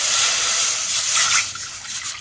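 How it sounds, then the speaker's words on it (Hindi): Water poured from a glass into a cooking pot for bottle gourd soup, a bright continuous gushing splash close by that eases off near the end. "तकरीबन 3 गिलास हमने पानी डाला है"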